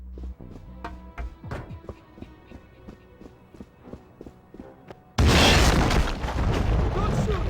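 Explosions going off across the Severnaya Bunker level in GoldenEye, first as scattered booms and thuds among busy game action, then a sudden loud, sustained blast wash that fills the last two seconds.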